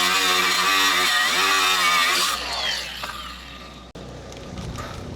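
Angle grinder working on suspension parts for a 1966 Mustang, a loud continuous high-pitched whine with harmonic tones that drops in pitch and fades partway, then cuts out briefly before resuming more softly.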